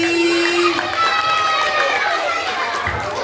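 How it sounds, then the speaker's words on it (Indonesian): An audience at a Maulid Nabi gathering at an Indonesian school claps for a girl named Siti, giving a loud burst of applause mixed with chatter and voices throughout. "Tepuk tangan dong buat Siti."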